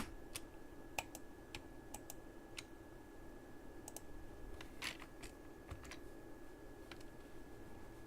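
Typing on a faulty computer keyboard, scattered sharp key clicks at uneven intervals, faint and close, with a steady low hum underneath and no talk.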